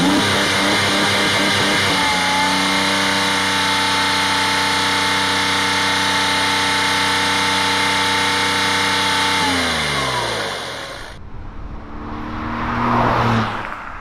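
Porsche 996 Gen 1 fitted with a Cargraphic aftermarket exhaust, loud and close, holding a steady high rev for several seconds before dropping off, then blipping once more at the end.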